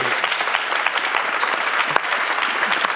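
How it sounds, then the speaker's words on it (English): Sustained audience applause fills a community conversation event on homelessness at a history museum, dense steady clapping from a crowd that holds at an even level throughout without any speech. "Please give them a round of applause."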